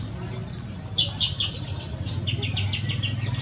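Male pancawarna bird in breeding season calling in a series of short, high chirps in quick runs, close but light over a low background rumble.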